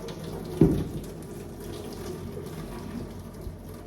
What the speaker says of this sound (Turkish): Kapağıyla birlikte süzüyorum.